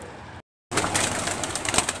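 High flyer pigeons on a large farm with over 250 birds coo and rustle nearby after a brief silent gap, soft repeated calls over a busy bed of bird sounds.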